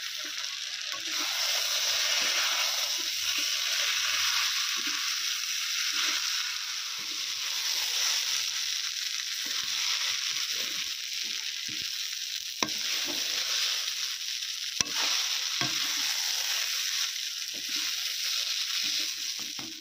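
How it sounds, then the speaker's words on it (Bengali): Rice and masala being stirred in a kadai while frying, a steady broad sizzle with scraping stir strokes throughout, close and continuous, no talking. "বাকি চালটা দিয়ে দিয়েছি, এবার ভালোভাবে মিক্স করে নেব"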